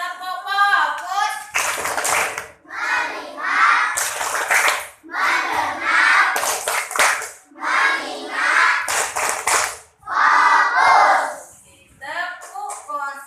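Children chant the 'tepuk fokus' clapping routine in a classroom, loud group voices alternating with sharp bursts of rhythmic hand claps in repeated patterns, close and energetic.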